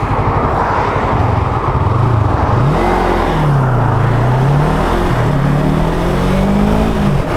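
A Yamaha R3 sport motorcycle accelerates at speed on the road, its engine note rising and falling through the gears under heavy steady wind rush, loud and close from the rider's position.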